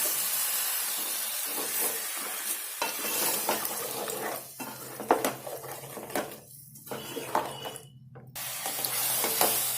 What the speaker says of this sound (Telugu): నేను ఒక పెద్ద నిమ్మకాయ అంతా చింతపండు తీసుకుని గుజ్జు తీసి ఇందులో వేసేస్తున్నాను అండి.